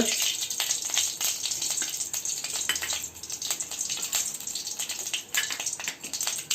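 Mustard seeds crackle and sizzle as they hit hot oil while a North Karnataka chitranna is cooked, a busy, hissing spatter with sharp pops running continuously and close by.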